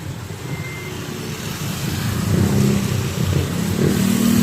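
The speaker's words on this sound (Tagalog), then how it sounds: "Nasalubong yung dalawang tinwheeler." Two ten-wheeler trucks meet on a narrow road, their heavy engines rumbling steadily and growing louder as they draw near, with a low droning tone building through the second half.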